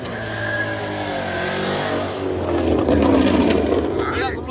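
A truck at a truck meet revs hard and spins its tires, an engine drone swelling into loud rasping tire squeal and roar, with voices talking over it.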